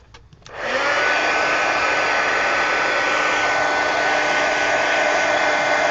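A hair dryer switches on after a few soft taps and blows a loud, steady whoosh with a constant whine, drying a mixed media collage card, running alone without talk.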